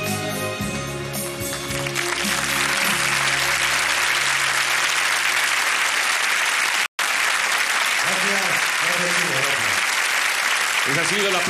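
Studio audience applauds after a song on a 1987 Chilean TV show in Santiago, loud dense clapping that fades in over the music's end, with a brief cut and a voice speaking over it later.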